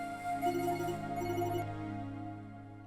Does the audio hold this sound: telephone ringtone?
yes